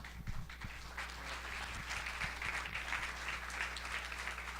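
Audience applause welcoming a university professor to the stage at a lecture, continuous even clapping from a sizable crowd, fairly distant and soft, with a low steady hum beneath.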